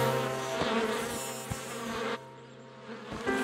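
A cartoon swarm of bees buzzes around a hive in a continuous, moderately loud drone with soft tonal layers. The hum dips briefly midway, then swells again, with small knocks in the background.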